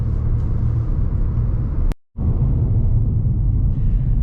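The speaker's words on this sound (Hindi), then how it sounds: "लो भाई, ट्रैफिक आ गया।" Steady city road traffic rumbles close by, a continuous low drone of car engines with one brief dropout partway through.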